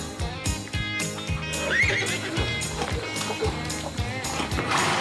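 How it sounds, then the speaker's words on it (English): A horse whinnies amid a busy, bouncy backdrop of rhythmic music with clip-clop beats; the neigh sounds brief and mixed in rather than prominent. "With a neigh, everywhere a neigh."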